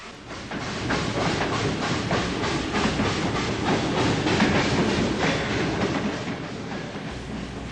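A steam passenger train pulls into a side track, rolling steadily past nearby, with rhythmic clickety-clack of wheels over rail joints and a constant hissing rumble, no voices.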